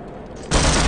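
Burst of video game gunfire from a first-person shooter, a sudden loud rapid volley erupting halfway through after a quieter stretch, with no talking.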